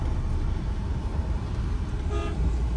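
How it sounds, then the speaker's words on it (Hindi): Road traffic drones steadily, with a car horn tooting clearly near the end amid the engine hum. "हाँ थोड़ा सा ट्रैफिक है"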